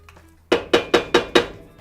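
A pan of New Orleans BBQ shrimp sauce is handled as it comes off the stove, giving five sharp, evenly spaced metallic clanks close by, with no talking.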